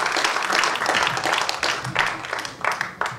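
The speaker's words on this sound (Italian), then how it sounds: "grazie per l'applauso" An audience applauds after an orchestral concert piece featuring clarinet, flute, bassoon and horn soloists. The clapping is brief and uneven, rising and falling in bursts over about three seconds.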